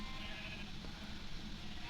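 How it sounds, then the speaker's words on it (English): Sheep in the Minecraft video game give a faint bleat against a quiet, steady ambient background. "I got my colorful sheep."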